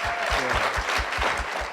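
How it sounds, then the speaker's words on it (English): A crowd claps steadily and loudly throughout, a dense applause with no voices rising above it. "Can I get a big round of applause for that?"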